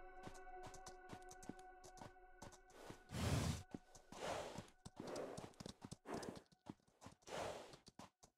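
Rhythmic clip-clop of horse hooves in the game Citadel: Forged with Fire, with repeated clicky steps and a few breathy horse snorts, moderately loud and close.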